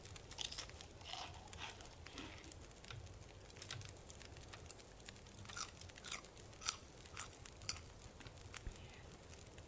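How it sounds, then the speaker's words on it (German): Lip-smacking chewing while eating, loud and close, with crunchy, irregular mouth sounds repeating steadily throughout and no speech. "Kannst du die Gosche zumachen beim Schmatzen"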